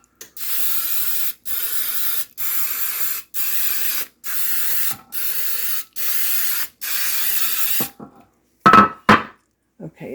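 Baker's Joy baking spray misted into a muffin pan for pumpkin pie cupcakes: eight close, steady hissing bursts of about half a second to a second each, separated by short gaps, then a few clunks as the can and pan are handled.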